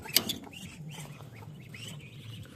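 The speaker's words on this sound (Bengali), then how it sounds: "এই হাঁসগুলো বিক্রি করা হবে।" Caged Chinese ducks give several short, close quacks and calls, with a sharp burst near the start and scattered calls afterward over a low background hum.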